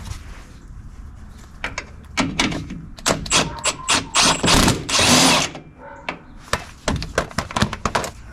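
A wrench ratchets and clanks while tightening a bolt on a Pontiac LeMans during shock and brake work, with irregular sharp metallic clicks and bursts that are loud and close.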